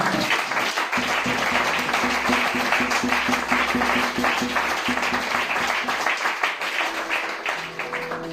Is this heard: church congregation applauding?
yes